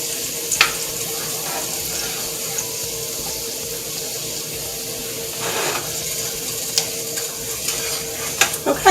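A honey lemon butter glaze sauce for salmon bubbles and sizzles steadily in a pan, with occasional stirring clicks from a utensil.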